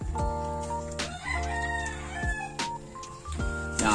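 Bearded gamefowl roosters crowing in a farm yard, several loud cock-a-doodle-doo calls overlapping one another and repeating every second or so, close by, with clucking in between.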